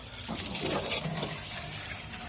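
Water pouring into a 4-gallon sprayer tank while mixing a Bermuda grass lawn treatment, a steady close splashing fill with no talk over it.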